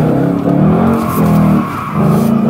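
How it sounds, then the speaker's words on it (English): A Ford Mustang GT spins its wheels, the tires squealing in loud repeated bursts over a revving engine, close and with no talk. "you're spinning the wheels too much"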